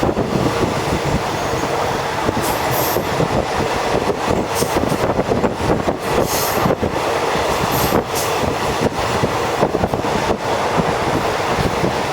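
Thai express train 133 from Bangkok to Nong Khai runs steadily near Udon Thani, a continuous loud rumble of carriage wheels with rhythmic clacks and occasional squeals heard from inside.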